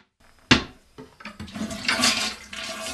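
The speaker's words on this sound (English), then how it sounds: "The toilet has a thin plastic hose that fills it with water." Toilet modified to save water, its fill hose rerouted into the tank, flushes with a sharp onset followed by a loud rushing, gurgling swirl of water that builds and trails off, close by with no talking.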